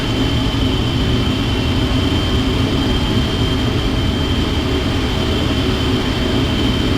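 A PMDG 777F freighter in the Prepar3D flight simulator lands at Honolulu, giving a constant loud broadband roar of engines and airflow with a steady whine, unbroken throughout.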